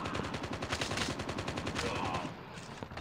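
Rapid automatic gunfire rattles through a match of the mobile shooter Call of Duty Mobile, in fast steady bursts close up that carry on for the whole stretch.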